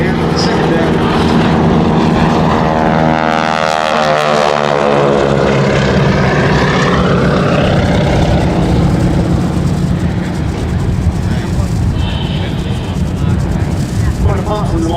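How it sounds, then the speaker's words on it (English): Loud, steady radial-engine drone from Boeing Stearman biplanes flying a wing-walking display at the Duxford air festival, propeller roar rising and falling in pitch as the aircraft pass, continuous throughout. "Quite apart from the more powerful engines on these Stearmans"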